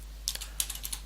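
Keystrokes on a computer keyboard while writing code, about seven distinct clicks in a quick irregular run, close and clear over a steady low hum with no voices.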